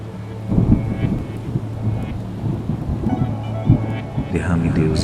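Steady heavy rain pours down with several deep thunder rumbles rolling through, a continuous loud wash of rainfall and no talking.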